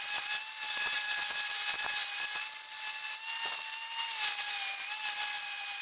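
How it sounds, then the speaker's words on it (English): Welds on a new steel rear bumper cross member of a Toyota 100 Series Land Cruiser are ground down with a steady, high-pitched metallic whine that wavers slightly as pressure shifts. "Had to grind down these welds a lot from this new cross member"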